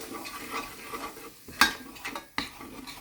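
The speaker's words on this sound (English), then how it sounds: "So now you want to stir this in" Flour stirred into two pounds of browning ground sausage in a pan for gravy, a soft scraping and stirring under a light sizzle, with a couple of sharp utensil clacks against the pan partway through.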